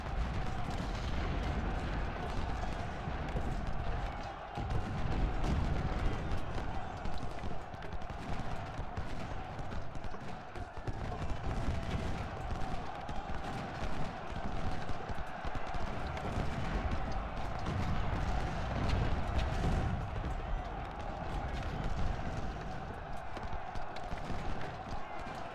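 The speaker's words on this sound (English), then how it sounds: "Goddamn artillery on our flank." Artillery and massed gunfire in the Ultimate General: Civil War video game, a steady, fairly quiet din of rattling musketry and cannon thuds that runs the whole way with no pauses.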